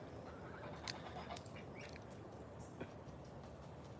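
Ducks quacking faintly at a farm with geese and horses, a few short calls rising out of steady low background noise, distant and quiet.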